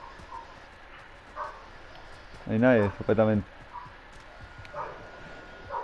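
A dog in Call of Duty: Modern Warfare gives a quick run of barks while tracking, a short cluster of yaps in the middle of the clip. A player talks quietly before and after.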